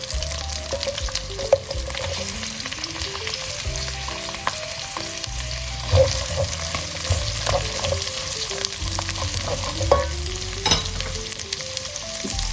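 Green beans, cabbage and onion stir-frying in a pan for nasi goreng with beef, a loud continuous sizzle with scraping and tossing sounds from the spatula, close and without any talking.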